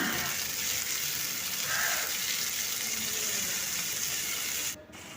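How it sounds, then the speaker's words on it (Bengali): Chopped onion and tomato frying in oil, a steady, fairly faint hiss of sizzling that runs throughout and drops off abruptly just before the end. "পেঁয়াজটা তেলের সঙ্গে মিশিয়ে একটু ভেজে নেব তারপর একটা গোটা টমেটোকে কুচি করে দিয়ে দিচ্ছি"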